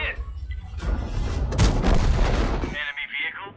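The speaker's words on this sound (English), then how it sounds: "the last two shots did penetrate" Tank cannon shots from an AMX 13 105 in the World of Tanks video game, heavy booming blasts with rumbling low-end tails, followed by a brief higher whining tone, loud and close under faint background voice.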